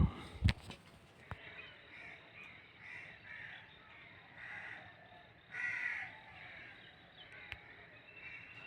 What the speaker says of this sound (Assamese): ৰাতিপুৱা পৰিৱেশ, চৰাই-চিৰিকটিৰ মাত আপোনালোকক শুনালোঁ।